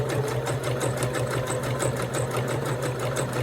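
Close and steady, a sewing machine hums with rapid, even stitching as it sews the second round of rope onto a coaster, running continuously without pause.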